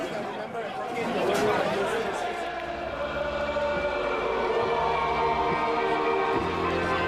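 A dense crowd of adoring football fans jam-packed into a Singapore nightclub to see Liverpool FC players, their loud, continuous chatter and hubbub filling the room with steady crowd noise throughout.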